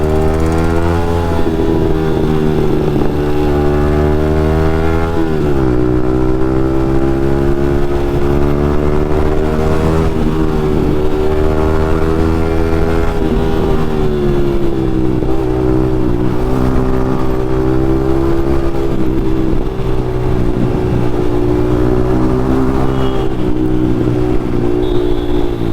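Yamaha MT-15 motorcycle fitted with an Akrapovic exhaust, its engine running loud and close for the whole stretch, with steady revving and pitch swells as the throttle opens and eases.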